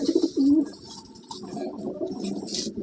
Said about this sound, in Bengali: খুব ছটপটে পায়রা হাতে থাকতে চাইছে না